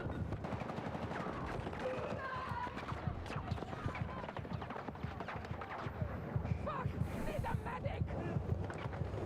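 Battlefield 6 gunfire, a dense ongoing clatter of rapid shots and bursts under a busy mix of game noise, with voices talking now and then.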